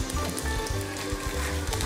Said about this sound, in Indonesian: Oke, sekarang aku mau balik pancake-nya.